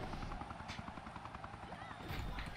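Helicopter in the wrestling game WWE 2K Battlegrounds, a loud rapid rotor chop that runs steadily throughout with game sounds layered over it.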